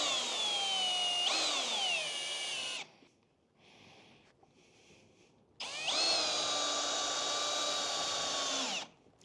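Power screwdriver driving screws into the floor of a horse trailer under renovation: two loud whining bursts with rising and falling motor pitch, separated by a quieter pause with faint handling noise.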